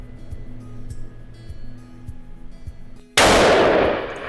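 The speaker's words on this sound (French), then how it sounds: "c'est assez bruyant et il y a une très belle flamme au bout du canon" A rifle fires once at a shooting range: a sharp, loud, close blast cuts through low mechanical background rumble and then decays into a brief echoing tail.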